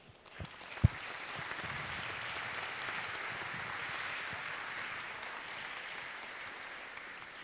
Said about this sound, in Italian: un applauso per voi